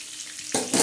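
Onion pieces hitting a hot tawa griddle and frying, with a quiet hiss that jumps into a loud, bright sizzle about halfway through and swells again near the end, with no voices.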